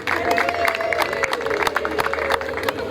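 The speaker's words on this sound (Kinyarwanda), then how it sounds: "munyemerere tuyikomere amashyi tuyivugirize impundu" An audience at a family celebration bursts into dense applause and ululation, with rapid claps and shrill trilling voices layered together, loud and close, for a few seconds.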